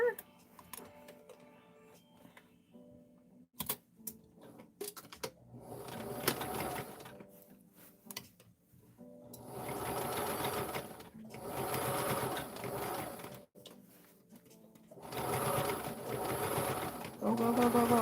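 Sewing machine stitching a padded dress form cover in bursts, with quiet handling noises between runs and a louder sustained stretch of machine stitching near the end.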